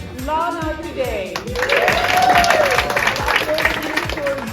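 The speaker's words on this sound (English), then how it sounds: "Clap your hands for our honorees today." An audience at a staff appreciation event claps for honorees, a dense spread of clapping rising through the middle while a voice with strong tonal, sung-like delivery carries over it.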